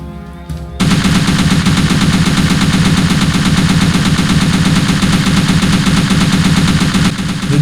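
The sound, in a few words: machine gun firing at targets in video game Faces of War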